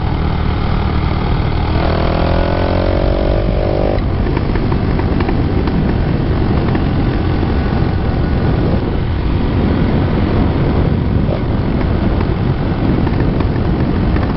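A 100cc motorbike engine droning steadily on a winding trail road, close and continuous, with a brief rising whine as the revs climb early on, then an even hum through the curves.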